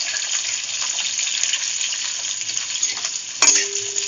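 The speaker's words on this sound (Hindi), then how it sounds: "देखिए फ्रेंड्स, तेल हमारे गरम हो गए हैं, इसमें सिर्फ हम शिमला मिर्ची डाल के पकाएंगे।" Capsicum fries in hot oil in a kadhai, a dense, steady sizzle close up with stirring scrapes and a sharper clatter near the end.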